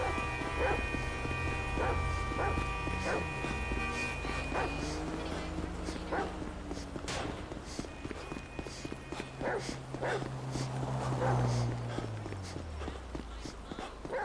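Plastic packaging of a garage door opener crinkles and rustles steadily up close, with occasional sharp snips and tearing as it is cut open with blunt scissors.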